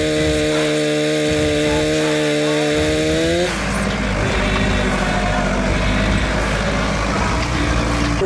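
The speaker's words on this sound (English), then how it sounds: "So we're going to need a good chainsaw to get the job done" A chainsaw idles with a steady buzzing drone, then revs hard and bites into wood, roaring loud and close for several seconds.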